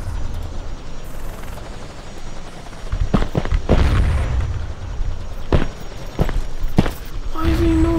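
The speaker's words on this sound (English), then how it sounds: "Helicopter." Helicopter rotor in the online shooter Red Crucible: Firestorm, a steady wash of blade noise mixed with sharp gunfire bursts and booms, loud and close throughout the battle.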